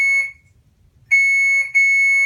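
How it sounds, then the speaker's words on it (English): A high electronic alarm from an Alaris infusion pump, signalling an occlusion from a closed clamp, beeps in sustained tones, cutting out briefly, then sounding again twice, close and loud with no voices. "this beeping is letting me know that I did not unroll the clamp here"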